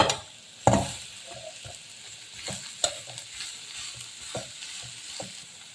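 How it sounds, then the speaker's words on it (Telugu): Ginger fries in a pan for mango pickle, giving a steady, close sizzle broken by a few sharp scrapes and clatters of stirring, with no one speaking. "ఇది కొంచెం ఫ్రై చేస్తాను ఎక్కువ ఫ్రై అవసరం లేదండి కొంచెం ఫ్రై చేద్దాం"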